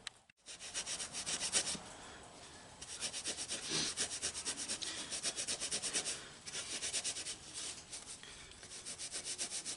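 Drill spinning a Scotch-Brite pad to scrub a Farmall Super M tractor engine part during reassembly, a steady abrasive rubbing hiss that surges in repeated passes, close and continuous, no talking.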